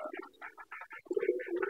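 Pigeons cooing inside and around a raised coop, a series of soft throaty calls close by, growing fuller and louder toward the end, with no talking over them.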